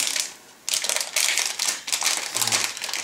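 Plastic bags holding sprues of a 1/48 Su-35S model kit crinkle and rustle in bursts of close, crisp crackling, with a short pause near the start and no talk.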